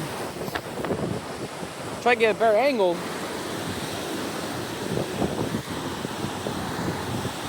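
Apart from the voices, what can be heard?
strong waves and wind at shore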